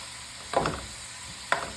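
Shrimp sautéing in a pan for shrimp and grits: a soft, steady sizzle broken by two brief, louder scraping stirs about a second apart.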